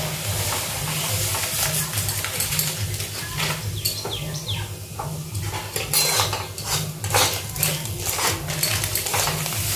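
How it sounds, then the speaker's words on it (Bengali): Semolina poured into hot oil in a pan and stirred, with rapid metal scraping and clinking against the vessel, busy and close over a steady low hum, no talk. "সাদা তেলটি গরম হয়ে গেছে নিয়ে সুজিটা ঢেলে দিচ্ছে"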